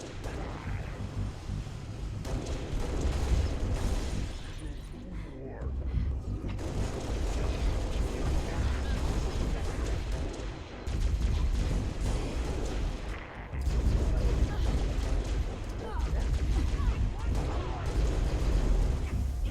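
Heavy gunfire and booming explosions in Halo Reach, a dense, continuous battle din of shots and rumbling blasts with voices talking over it.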